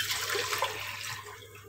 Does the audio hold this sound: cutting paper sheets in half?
no